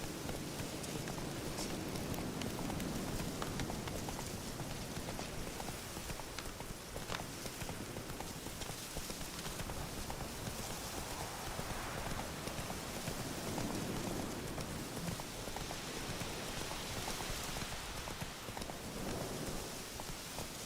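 Horse hooves clip-clop steadily at a gallop through heavy rain in The Witcher 3, a dense wash of downpour and faint rumbles filling the background throughout at an even level.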